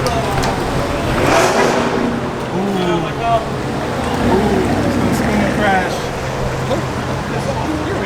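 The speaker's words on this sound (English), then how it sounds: "Hey, listen to this exhaust, guys." A car exhaust revs at a crowded outdoor car event, with a loud engine drone rising and falling throughout and people talking and shouting over it.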